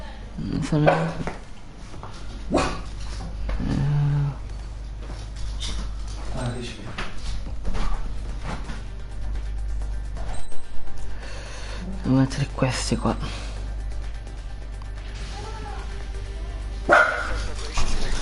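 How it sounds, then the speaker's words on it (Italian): A dog barks a few times close by, short sharp yips over a steady low hum, while a person talks through most of the stretch. "Oh, non abbaiare!"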